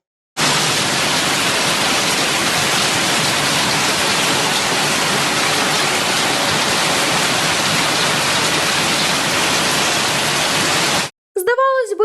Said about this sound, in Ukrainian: Така щільна стіна дощу та граду.